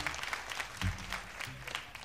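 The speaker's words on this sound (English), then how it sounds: "What about another round of claps, hand claps for Mr." Concert audience at a 1977 blues show in Japan applauding, a steady crowd of claps at moderate distance, with a brief heavier burst near the middle.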